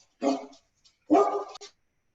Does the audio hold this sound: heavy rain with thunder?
no